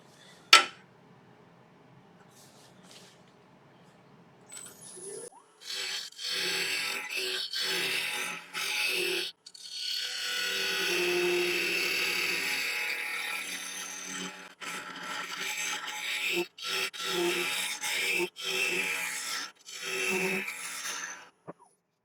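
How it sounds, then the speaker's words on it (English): A carbide Easywood Pro Hollower cuts into monkey puzzle wood spinning on a lathe, giving bursts of scraping and rumbling cutting noise that stop and restart several times, with near-silent gaps between passes. "I think I might switch over to my carbide just to get this hollowed out. So I'm going to be using the Easywood Pro Hollower."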